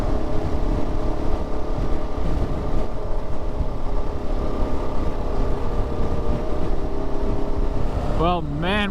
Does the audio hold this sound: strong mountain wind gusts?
yes